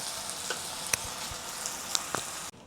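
Ginger garlic shrimp stir-frying over high heat in a Chinese-style dish, a steady soft sizzle with a few faint clicks of stirring, close and alone with no talk.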